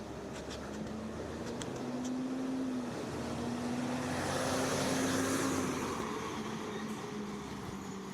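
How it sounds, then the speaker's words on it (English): Cars pass along a hot, shady residential street, a faint steady hiss of tyres and engines that swells gently and fades again over several seconds. "There was a burst of cars, but it's quieted down."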